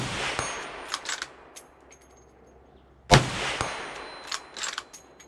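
A .350 Legend rifle fires a single sharp, loud shot with a brief echoing tail, preceded and followed by quieter outdoor clatter and handling noises.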